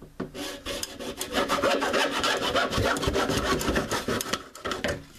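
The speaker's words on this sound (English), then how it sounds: "We're going to cut this little nipple off. We just use a hacksaw." Hacksaw cutting the plastic inlet nipple off an upturned sump pit, close and loud rapid back-and-forth rasping strokes in a continuous rhythm.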